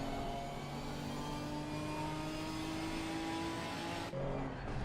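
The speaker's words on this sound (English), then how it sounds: "he's about to go to the start-finish line and do his final lap of the race in the GT4" A GT4 race car's engine drones steadily at high revs on the final lap of a sim racing event at the British M-Prix, a continuous loud whine that dips briefly near the end, no talk.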